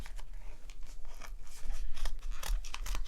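Scissors cutting around a paper bunny puppet, with irregular close snips and crisp paper crunches and rustles, moderately loud and without speech.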